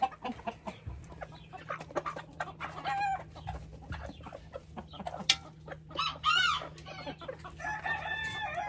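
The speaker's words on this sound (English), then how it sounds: "Of course the hens always get it first, and the roosters always eat last." Hens and roosters cluck and chatter busily up close while eating, with a rooster crowing now and then among scattered pecking and rustling sounds outdoors.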